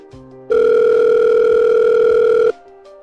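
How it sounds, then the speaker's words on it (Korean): A telephone ringback tone as a call is placed, one steady loud two-second tone starting abruptly and cutting off, with faint quieter tones before and after. "난 거기에 써있는 연락처로 바로 전화를 하게 되었어"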